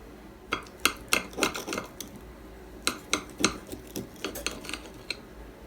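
A knife scrapes and taps against a plate while cutting into a golden-brown air-fried pork chop, giving a series of sharp clinks and short scraping strokes, close up, with a brief pause midway.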